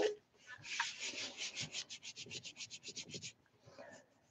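Paper rubbed by hand over a gelli printing plate, a close, soft scratchy rasp repeating in quick, even strokes for about three seconds before easing off into quieter rubbing.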